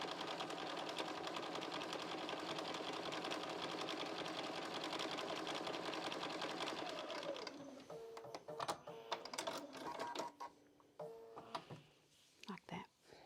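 A sewing machine runs steadily, stitching a seam roughly 1/8 inch from the fabric edge, with a continuous loud whir for several seconds before it stops. Scattered handling clicks and rustles follow.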